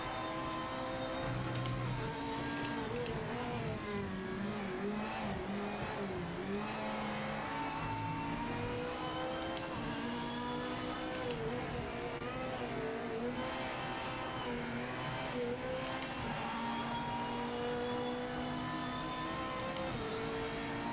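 Race car engines in Project Motor Racing at Kyalami, a continuous loud whine of revving and shifting engines rising and falling in pitch as cars run close together, with no speech.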